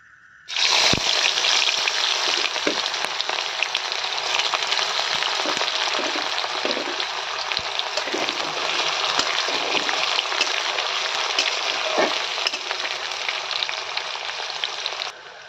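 Chopped onions hitting hot oil with reddened chilies and cumin, a loud continuous sizzle of frying that starts abruptly and holds steady with faint stirring ticks, close up and without talk.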